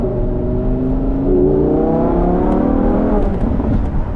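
A Lamborghini Huracan engine revs up close and loud, its pitch climbing and falling in a sustained, layered growl over about four seconds, with no talking.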